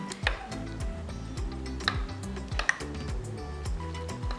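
A spoon stirring an almond milk mixture in a bowl, steady clinking and tapping against the sides in a quick repeating rhythm, close and clear with no talking.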